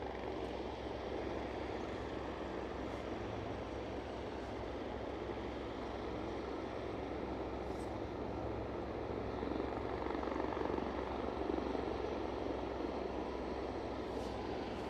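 A British Airways jet at Aberdeen airport gives a steady distant engine roar that holds for the whole stretch and swells slightly toward the end.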